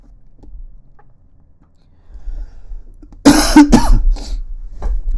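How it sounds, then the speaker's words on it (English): A person coughs loudly up close, a harsh burst of two quick coughs followed by a smaller one, after a stretch of near silence with faint low rustling. "sorry guys, I got a cough today."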